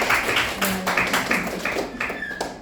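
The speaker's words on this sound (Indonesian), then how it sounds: "Boleh kasih tepuk tangan?" A school audience in Palembang claps in a short burst of uneven, close hand claps that thin out over a few seconds, with a faint voice underneath.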